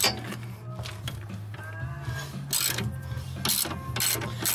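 Ratcheting clicks of a wrench loosening suspension bolts on a Mk7 VW GTI or Jetta while fitting lowering springs, repeated bursts of mechanical clatter close by over a steady low hum.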